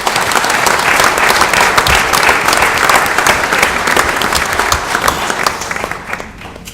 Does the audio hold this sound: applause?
yes